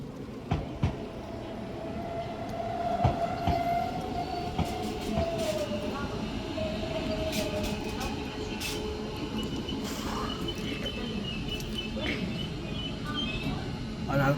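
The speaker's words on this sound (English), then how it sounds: "now arriving in is going to be the 1740 Northern service" A Northern passenger train pulls into Shipley station, its wheels rolling and clattering with occasional squeals and brake hisses. The sound is moderately distant and steady, with faint voices in the background.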